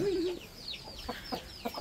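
Small chicks cheep in short, high chirps, repeated and close. Softer clucking of hens in the background.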